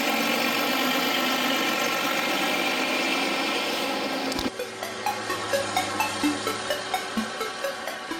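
A tractor engine running on a test bench, a loud steady roar that drops abruptly partway through into a lower idle with rhythmic pulsing knocks, close and alone.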